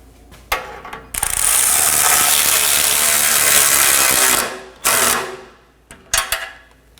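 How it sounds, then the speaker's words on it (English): A hand ratchet snugs down the muffler nuts on a 2015-2023 Nissan Maxima 3.5L V6, making one long, loud, steady burst of rapid clicking. Shorter clicking bursts come before and after it, close by, with no talk. "We're going to snug all of these down."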